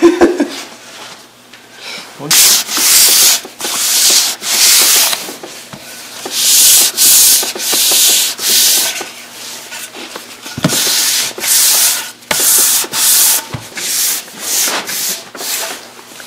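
Sandpaper is rubbed by hand over a wooden furniture piece, a series of close, loud, scratchy back-and-forth strokes in irregular bursts, with some brief talk in between.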